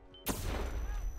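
Gunfire in the video game Hitman 2, a sharp shot or burst after a brief quiet moment, followed by a dense rattling tail that fills the rest of the short moment.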